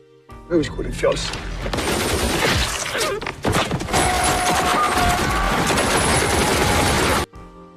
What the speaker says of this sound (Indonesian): datang dan menghujani dengan tembakan para gangster itu